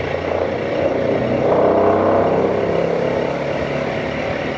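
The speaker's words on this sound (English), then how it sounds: "this will give you a pretty good idea of the power that the cart motor's putting out" A homemade cart motor spins up after a push and keeps running, a steady loud droning hum with a slight swell in the middle, close by and with no voices.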